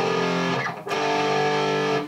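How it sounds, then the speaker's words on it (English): Distorted electric guitar plays two thick power chords, with a brief break between them, loud and up close. "maybe you just want to play power chords"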